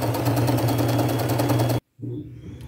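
A sewing machine runs steadily as it stitches a patch pocket onto jeans, a close, loud, even mechanical hum that cuts off briefly and then starts again.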